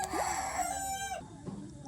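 A rooster crows in a long, drawn-out call among chickens at a rural village in West Sumatra, the crow fairly close and clear, followed by quieter clucking.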